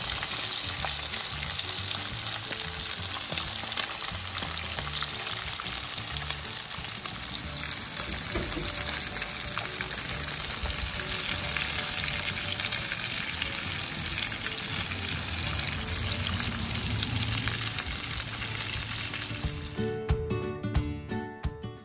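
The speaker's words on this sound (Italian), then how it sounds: "prenderle e buttarle nell'olio bollente. Sentite che sound" Loud, continuous crackling and sizzling of breaded fish frying in boiling oil, steady for a long stretch before tapering off near the end.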